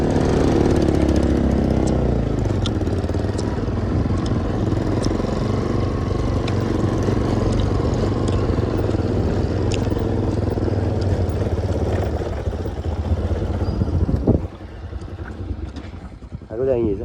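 A motorcycle engine drones steadily up close during a bike trip, with a constant low rumble and wind buffeting, easing off briefly near the end; people talk over it.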